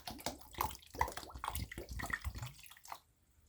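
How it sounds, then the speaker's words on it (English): Water poured and splashed into paper pulp for papermaking, close, quiet irregular sloshing and trickling that stops near the end. "So I'm going to add some more water"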